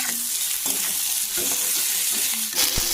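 Onion, chilli and spices fry in hot oil with a loud, continuous sizzle, broken by repeated scrapes and knocks of a stirring utensil against the pan.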